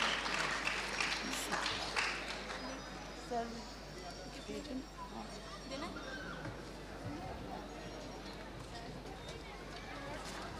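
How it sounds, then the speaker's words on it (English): Audience applause at an award ceremony, a dense wash of clapping that is strongest at the start and then carries on steadily with crowd murmur mixed in. "A huge round of applause is required from all of you."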